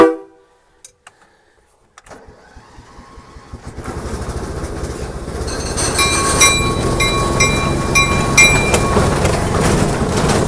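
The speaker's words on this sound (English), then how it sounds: "we're going to go for a little train trip" A train engine rumbles along the track, starting quiet with a few clicks, then building to a steady loud roar with rhythmic clatter and a high whine.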